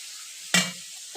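Fish and potatoes fry in a pan with a soft sizzle, broken by a sharp close scrape or clatter of stirring and a second brief stir at the end.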